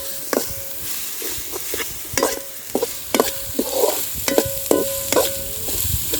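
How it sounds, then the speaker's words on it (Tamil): Ginger garlic paste sizzling in a hot pan with curry leaves for a village-style country chicken fry, a steady frying hiss broken by repeated scraping stirs of a spoon against the pan, close and clear. "இஞ்சி பூண்டு பச்சை வாசம் போகிற வரை நல்லா தாளிச்சுக்கலாங்க."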